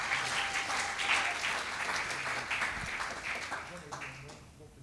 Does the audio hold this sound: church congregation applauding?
yes